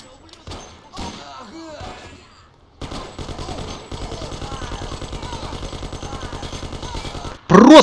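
Machine gun fire from the Mafia video game with the Gunsmith mod, heard as scattered shots and then a long, evenly spaced rapid burst that cuts off, followed by a loud thump.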